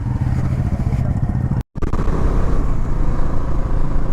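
A motorcycle pulls away from a forest checkpoint at Amrabad Tiger Reserve, its engine a loud, steady rumble that cuts out for a split second, then rises again as the bike moves off.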